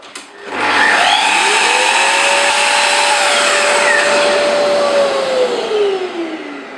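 A Capex saw cuts through wood held down by a toggle clamp while building a Gothic bench. The loud, steady whine rises as the blade engages and holds through the cut, then slowly winds down at the end.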